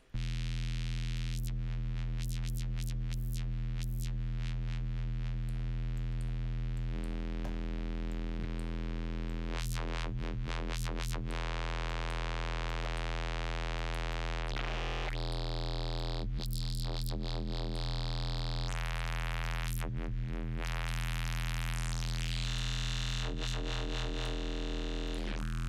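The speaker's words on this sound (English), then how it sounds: "we have a morphing band pass that then runs into a morphing notch" Synth bass in Ableton runs through a morphing band-pass filter and then a morphing notch filter, giving a loud, sustained bass drone whose upper tones sweep, chirp and shift constantly, with no voice.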